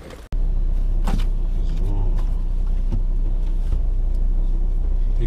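Car interior during a drive to a hardware store, with a steady low engine and road rumble running throughout after a brief thump at the start, while a voice talks over it.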